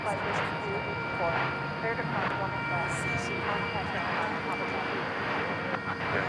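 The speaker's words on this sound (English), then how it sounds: "That was an Ameriflight Beach C-99 coming in from Clinton" An Ameriflight Beech C-99 turboprop comes in to land at DFW Airport, a steady engine roar at moderate distance running throughout under background noise.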